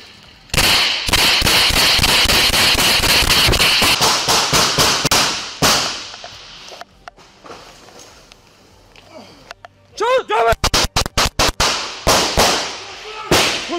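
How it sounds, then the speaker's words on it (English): Gunfire from a police shootout with an armed suspect in Nashville: a dense burst of loud, sharp cracks in rapid succession, then a quieter stretch with scattered sounds, then another cluster of close, sharp shots in quick bursts. "Three shots fired."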